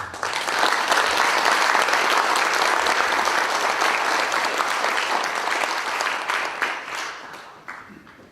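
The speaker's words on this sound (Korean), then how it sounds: "큰 박수로 환영해 주시기 바랍니다." An audience of Korean public procurement agency staff gives loud, sustained applause to welcome a guest lecturer at a public-ethics talk. The clapping is dense and steady for several seconds before tapering off.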